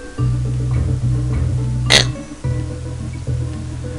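Burp-like grunting from Kremling enemies in the Donkey Kong Country video game, a short belching sound over looping game music with a brief bright effect midway.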